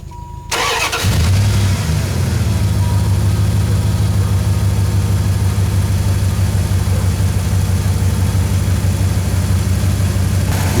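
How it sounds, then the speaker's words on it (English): A truck engine cranks and starts while jump starting a car, then settles into a loud, steady idle that runs on evenly for about ten seconds. "Next, I start the engine of this truck, the vehicle that's jump starting the other vehicle."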